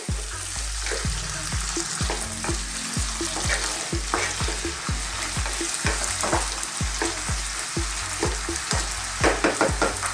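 Diced carrots and potatoes fry with minced pork in a pan, a steady loud sizzle with rhythmic scraping stirs of a spatula throughout, no voices.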